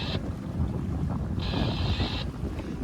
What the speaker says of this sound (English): There's quite a gust coming off the hills